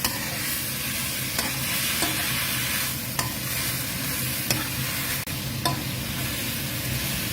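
Cabbage and pork stir-fried in hot oil, a steady close sizzle broken by several sharp scrapes and knocks of a spatula against the pan, with no talking.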